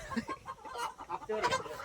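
Chickens cluck in quick, irregular bursts close by, with a bit of background chatter.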